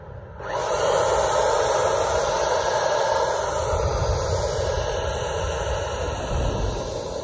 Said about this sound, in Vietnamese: Rồi em để gần cho cả nhà nghe tiếng động cơ nha.